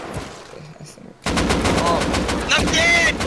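Sustained automatic AK rifle fire in the survival game Rust erupts loud and close after a quieter opening, continuing as a dense, rapid burst to the end with a few sharper shots layered in.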